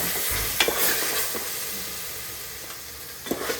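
Garlic and onion are stirred and fried in a pan, a steady sizzle with a few sharp scraping stirs of the utensil near the start and again at the end, close and clear with no talk.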